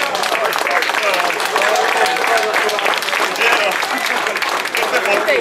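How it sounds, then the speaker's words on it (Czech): A crowd at the Ecce Homo 2016 hill-climb race applauds drivers from the Czech automobile racing championship. Dense, steady clapping runs loud and unbroken throughout, with a voice faintly beneath it. "Takže zatleskáme skutečně, přátelé"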